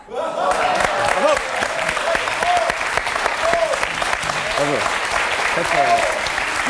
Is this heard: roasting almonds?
no